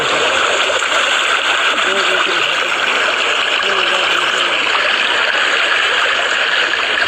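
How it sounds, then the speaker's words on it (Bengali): Flash-flood water from the hills rushes and flows across a flooded railway line in Bangladesh, a loud, continuous roar of churning water with splashes, and a voice speaking over it. "এইভাবে বাংলাদেশের দিকে এই পাহাড়ি ঢল আসছে।"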